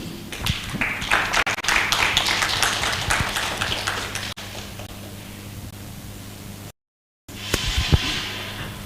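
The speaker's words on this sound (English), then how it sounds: "I like the way they clap" A conference audience at a sustainable packaging session claps after a speaker finishes, dense applause that thins out and drops away, then picks up again briefly near the end.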